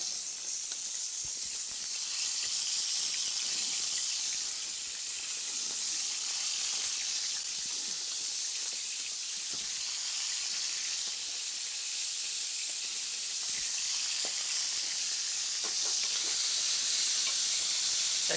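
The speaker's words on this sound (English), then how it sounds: "Pop a bit of oil into my frying pan here, which I hope is hot enough. Yes, it is. And put in some meat to brown the meat." Meat browning in hot oil in a frying pan, a steady, soft, close sizzle and hiss with occasional small pops and crackles, continuing alone without talk.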